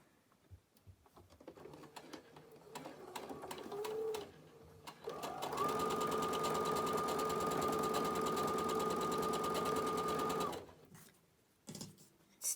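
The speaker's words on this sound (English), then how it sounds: "Stitch those 2 together." A sewing machine stitches quilt fabric patches together along a seam, starting with short slow bursts, then running in one loud, steady, rapid whir for several seconds before stopping, close up and without talk.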